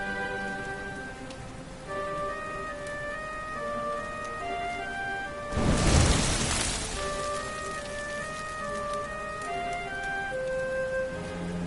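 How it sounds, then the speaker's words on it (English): Rain falls steadily in the video game Dragon Quest 11 under a soft musical backdrop, with a louder gust of rushing downpour swelling briefly partway through before settling back, and no talking. "Looks like the rain's dying down."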